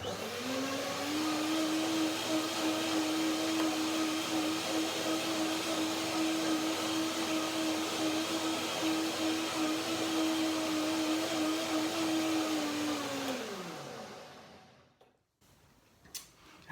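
Kitchen blender whirring steadily for about thirteen seconds while blending granola ingredients such as nuts and berries, then spinning down to a stop, followed by faint clatter.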